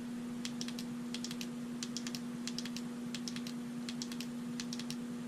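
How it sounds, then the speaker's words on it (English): The button of a FOURSEVENS Preon P2 220-lumen LED flashlight clicks steadily in a regular series of small, sharp presses. The clicks sit over a constant low electrical hum and nobody talks. "if you lightly press the button down, you can cycle through modes"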